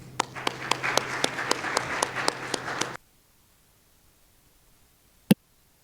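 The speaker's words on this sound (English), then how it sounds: "so let's give this a round of applause." A conference audience at IEEE Vis 2022 claps for a paper presentation. The applause is moderate and steady for about three seconds, with a few sharper individual claps standing out. It then cuts off into near silence, broken by one later click.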